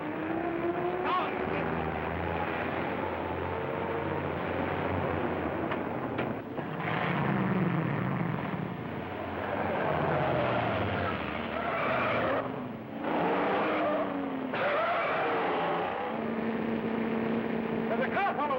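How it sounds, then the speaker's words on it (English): A car chase from a 1938 film, with cars driving at speed, engines roaring and tires screeching in loud surges under a dense, old-fashioned soundtrack. "There's a car following us."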